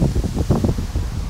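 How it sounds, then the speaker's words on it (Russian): Gusty outdoor wind buffets the microphone in low rumbling pulses, loud and close, with no voices. "Я не случайно ждал этот ветер."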